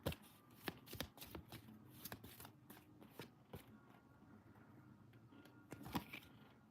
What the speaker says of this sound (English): Let me get one more card to clarify this outcome.